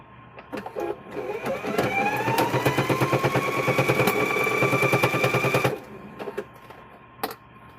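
A sewing machine stitches fabric for a door stop in one fast run of rapid, rhythmic clatter that speeds up, holds steady for several seconds and then stops. A few single clicks come before and after.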